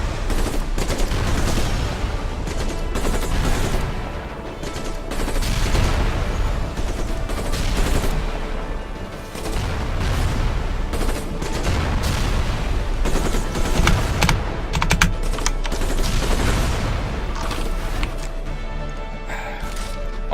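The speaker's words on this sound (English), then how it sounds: "they're opening fire on our most experienced artillery" Continuous loud combat gunfire and booming impacts as units open fire on artillery in the strategy game Civilization Beyond Earth, dense and sustained throughout with no pauses.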